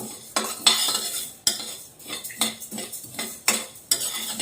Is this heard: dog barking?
no